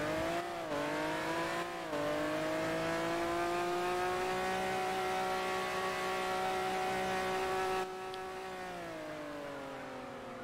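A Toyota GT9 race car in a video game accelerates at the race start, its engine tone climbing steadily through upshifts into a loud, sustained high drone.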